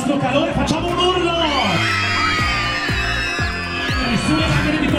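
A dense crowd yells, whoops and cheers loudly together at the start of a Giro d'Italia stage, a sustained wall of voices with shouting rising above it throughout.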